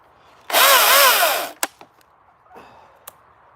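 A chainsaw cutting into a red pine revs loudly for about a second, then cuts off, followed by a few sharp knocks and a softer rustle.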